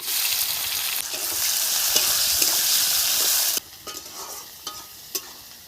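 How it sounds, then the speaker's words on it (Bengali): Sliced onions and five-spice seeds hit hot oil with a loud, close, crackling sizzle that holds for several seconds, then drops to a quieter fry broken by a few sharp stirring clinks. "তেলের মধ্যে দিয়ে দিচ্ছি 5 ফোড়ন, দিয়ে দিচ্ছি পেঁয়াজ"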